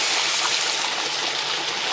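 Steady broadband hiss and splashing of a little water poured into hot frying masala for prawn biryani, sizzling continuously for the whole moment with no voices.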